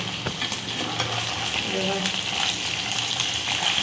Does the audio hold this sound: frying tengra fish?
yes